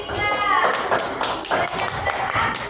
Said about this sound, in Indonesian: Beri aplaus dulu untuk kelompok 3